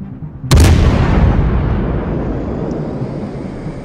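Enemy warship firing a salvo of shells in World of Warships: a single loud, sharp boom that rolls into a long, low rumble fading over several seconds, with a faint distant whistle later.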